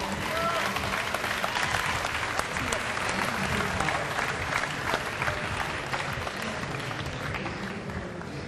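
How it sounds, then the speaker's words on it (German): An eSports event audience applauds two players, with loud, dense, continuous clapping and crowd noise filling the whole stretch evenly, with voices mixed into the din. "Großen Applaus für die beiden!"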